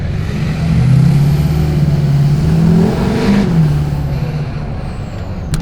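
A Hummer H2 swapped with an LBZ Duramax diesel revs nearby, its loud, deep engine note rising and falling through a couple of throttle swells before settling back to a steady rumble.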